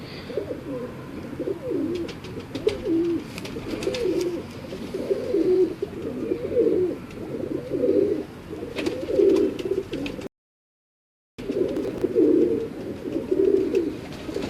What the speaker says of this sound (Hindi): ये जी इमाम दीनी कबूतर हैं बाबर साहब के